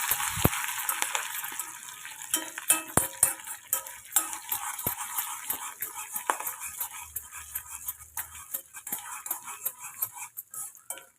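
Green chillies, ginger pieces and curry leaves fry for a tempering, with a light crackling sizzle under frequent metallic clinks and scrapes of a spoon stirring against the pan.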